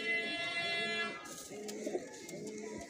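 Pigeons of a patti-marked breed cooing at a rooftop loft, low repeated coos close by, with a faint whistling tone early on and no talk.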